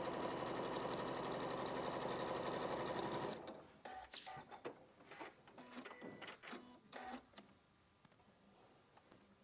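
A sewing machine stitches a seam in a fast, steady, loud whir for about three seconds, then stops, leaving faint clicks and handling sounds behind.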